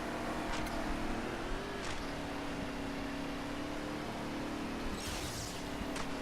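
Toy racing car engines hum steadily in Table Top Racing World Tour, a continuous droning whine with shifting pitch and a few brief whooshes, no talking over it.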